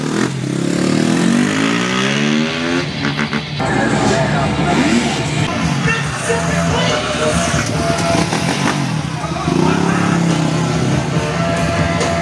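A third car in a tire demonstration passes by with a loud, sustained engine roar and revving that rises and falls, heard up close over about twelve seconds with possible faint voices mixed in.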